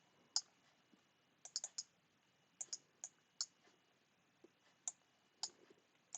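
Computer mouse clicks at a desk, heard as sharp, close clicks, some single and some in quick pairs, scattered across several seconds over near silence.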